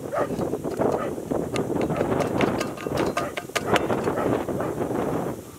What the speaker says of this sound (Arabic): راه كاينه الريح بزاف اليوم، كاينه الريح.